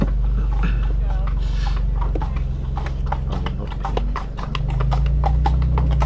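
Horse hooves clip-clop in a steady, repeated rhythm close by, over a constant low engine-like rumble with some faint background voices.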